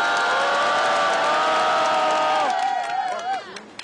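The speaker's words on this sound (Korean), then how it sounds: "힘찬 박수로 모시겠습니다. 힘찬 박수 부탁드립니다." Crowd noise with cheering and scattered applause at an outdoor vigil in South Korea supporting forced-labour victims, loud and sustained with voices rising through it before it thins out.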